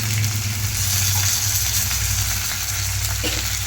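A full cup of washed curry leaves fries in a pan for a Tamil curry leaf kuzhambu, giving a loud, steady crackling sizzle under a low constant hum.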